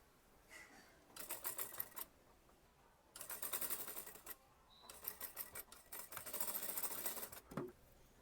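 A domestic sewing machine stitches a kurti sleeve seam in three separate bursts of rapid mechanical chatter, each lasting about a second or two, with quiet pauses between them.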